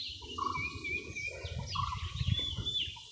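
Sparrows chirp faintly in a quiet hillside forest, with a few thin calls and trills spread over a few seconds against a near-silent background.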